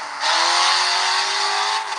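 A BMW M5 in the mobile game Car Parking Multiplayer holds a loud, sustained engine drone that rises sharply, stays steady for most of the stretch, then eases off near the end, with no talking.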